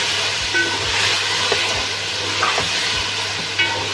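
Cinnamon pieces and whole spices fry in ghee for a vegetable pulao, a steady close sizzle and hiss with faint scraping stirs and small pops, with no talk.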